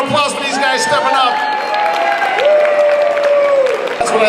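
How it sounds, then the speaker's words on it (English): Festival crowd at a Filipino community festival applauding and cheering young performers, loud clapping mixed with whoops, whistles and crowd chatter that carries steadily throughout. "Have another round of applause for these guys stepping up"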